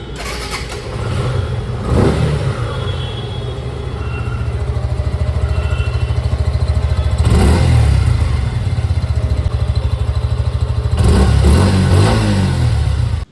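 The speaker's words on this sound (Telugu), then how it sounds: "ఇప్పుడైతే ఈ బైక్ని స్టార్ట్ చేసి సౌండ్ బీట్ ఎలా ఉందో చూద్దాం" A 2025 Suzuki Gixxer motorcycle engine starts and settles into a steady, loud idle, with a few sharp revs punching through at intervals.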